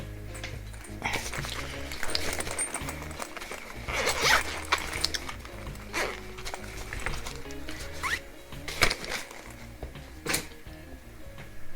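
A pencil bag's zipper is drawn open in several quick rasping pulls, close and clear, with small rustles of handling in between and no talking.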